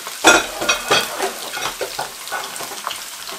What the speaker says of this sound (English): And then just put in the fish like this. I'm gonna allow that part to fry. Slow fry.